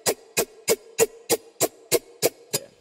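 Processed synth with its channel strip processing bypassed, nine evenly spaced percussive hits of about a third of a second each, bright and close with a short ringing tone under every strike, alone without talk.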